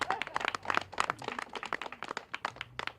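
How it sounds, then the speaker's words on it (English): An audience at a Sacramento mayor's speech on affordable housing claps in a dense, crackling burst of applause, many hands overlapping steadily for three seconds with no voices. "Yeah, that's worth an applause."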